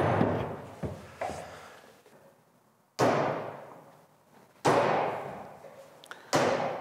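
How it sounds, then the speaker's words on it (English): Heavy hammer blows knocking out bearings on a Vespa PX scooter, four loud ringing metal impacts spaced a second or two apart, each decaying slowly, with a few lighter knocks between. "Knock out the bearings with that hammer."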